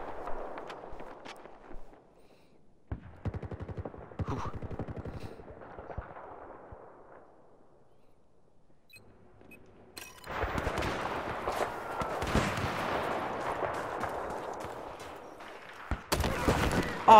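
Gunfire from a Battlefield 4 match rings out in scattered bursts, with a dense, sustained volley of shots dominating the second half under brief talk from a player.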